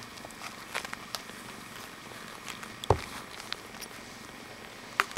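A Himalayan kitten purrs faintly and steadily close by, broken by soft rustling and a few sharp handling knocks.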